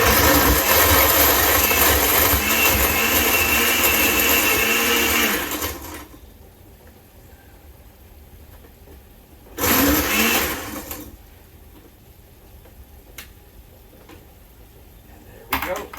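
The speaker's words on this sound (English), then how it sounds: "Plug in the blender." A blender whirs loudly for about six seconds, cuts off, then gives one short burst before falling quiet again.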